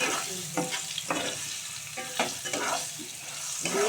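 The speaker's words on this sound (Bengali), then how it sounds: "এবার একটু আলুটা ভালো করে একটু ভাজা ভাজা করে নেবো" Potatoes fry in oil in a pan, giving a close, steady sizzle broken by repeated scraping stirs of a spatula.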